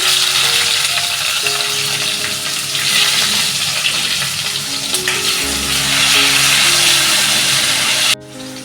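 Tomatoes and urad dal tipped into a hot frying pan with oil and curry leaves, giving a loud, steady sizzle and crackle throughout that drops off sharply near the end.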